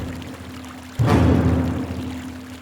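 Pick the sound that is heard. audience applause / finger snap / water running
water running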